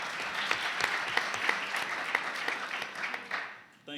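Audience applause for Larry Hall of the Durham branch NAACP executive committee, a dense steady wash of clapping that holds at an even level for about four seconds before cutting off abruptly.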